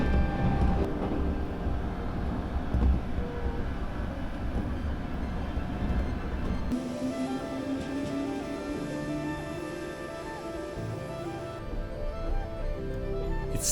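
An Oigawa Railway train running near the Oi River, a steady rumbling roll that shifts midway into a smoother hum with a rising whine, no talk.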